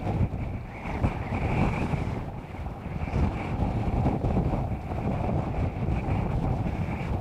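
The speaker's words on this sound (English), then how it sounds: "The wind has picked up tremendously." Strong wind blows steadily at a beach during Hurricane Sandy, buffeting the microphone with a loud, constant roar. Surf rumbles underneath throughout, with no voices.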